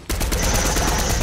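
Rapid automatic gunfire in the video game Fortnite, aimed at a tree, a loud near burst of quick repeated shots lasting about a second.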